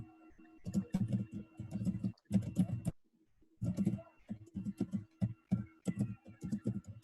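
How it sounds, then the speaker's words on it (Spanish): Keys on a computer keyboard clack in irregular bursts through an open microphone during an online class. The tapping is close and steady and breaks off in a short gap partway through. "¿Quién está allí con el micrófono activado que se escucha el teclado?"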